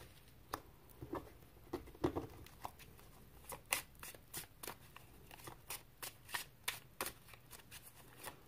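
Tarot cards shuffled and drawn by hand, a run of crisp riffling slaps and soft papery flicks in an irregular rhythm, close and quiet with no talking.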